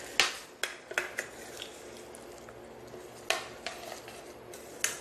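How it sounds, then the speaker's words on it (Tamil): A spoon stirs chana masala gravy in a pan after water is added, with sharp intermittent scrapes and clinks against the metal over a soft background simmer. "தண்ணி சேர்த்து நல்லா கொஞ்சம் எல்லாம் மிக்ஸ் ஆகிற மாதிரி கிளறி விட்டுருங்க."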